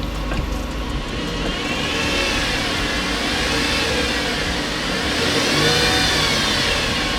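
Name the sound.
V6 Camaro engine revving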